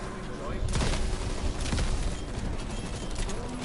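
A ray gun fired in a video game zombies mode, several sharp bursts crackling loudly over a busy backdrop of game effects.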